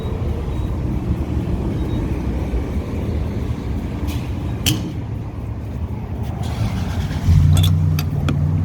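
A Honda car driving on the road toward a gas station, a steady interior road and engine rumble running throughout, with a few faint clicks and a slightly louder swell near the end; no talking.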